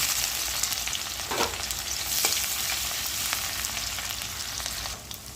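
Chopped onions fry in a pan with cloves, cardamom, cinnamon, minced garlic and ginger, giving a continuous close hiss and sizzle with a couple of faint stirring scrapes.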